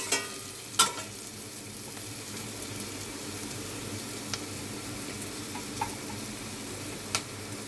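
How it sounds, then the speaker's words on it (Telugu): Chopped onions with a little turmeric sizzle steadily in a pan as they fry, a soft continuous crackle with occasional clicks of a utensil, heard close up with no talking. "ఉల్లిపాయలు కొంచెం వేగనివ్వండి."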